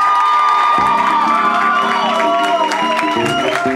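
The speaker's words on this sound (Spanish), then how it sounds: "otro aplauso por favor para él." Crowd applause and cheering for a performer at a salsa show, with whoops and shouting voices rising over clapping while a sustained musical tone plays beneath, loud and lively throughout.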